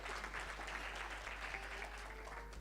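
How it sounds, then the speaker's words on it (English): Applause from an audience at the Eswatini Green Indaba conference, a faint, even clatter of many hands clapping over a low steady hum, with no speech. "Can we clap hands for him?"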